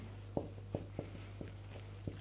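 Chalk or marker tapping and scratching on a board during a Sanskrit grammar lesson, about six sharp short strokes at an even rhythm over a low steady hum.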